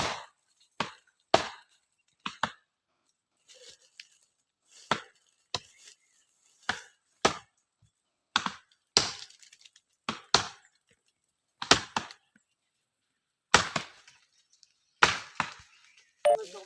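A hand tool chops into earth while cutting a pond, about twenty sharp separate strikes at an irregular working pace with quiet gaps between, close and loud.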